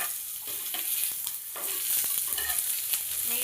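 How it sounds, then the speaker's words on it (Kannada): Oil sizzling in a pan on a tava as something fries, a continuous crackling hiss with stirring clicks, fairly close and unaccompanied by voices. "ಎಣ್ಣೆ ಹಾಕ್ಕೊಂಡ್ಬಿಟ್ಟು ಫ್ರೈ ಮಾಡ್ಕೊಳ್ಳಿ"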